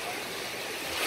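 A small sea wave washes up to the shore at Vityazevo near Anapa on the Black Sea, heard as a continuous broadband rush of surf that swells slightly at the end, close and steady.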